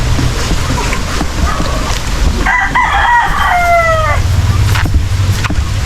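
A rooster crows once mid-clip, a clear rising-falling call over background chicken clucks and farmyard noise.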